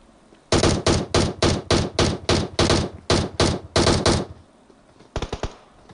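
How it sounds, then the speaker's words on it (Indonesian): Rapid automatic gunfire in PUBG on the Erangel map during a tournament match, a loud burst of about fifteen evenly spaced shots followed by a short pause and a quick second volley of three or four rounds, no voices. "Nampaknya adik melepaskan tembakan secara rambang di situ."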